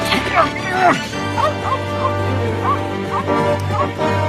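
A dog named Wimbledon, shut inside a garage while bushes behind it burn, yips and barks in short whimpering bursts in an animated cartoon, with voices talking over and around the calls.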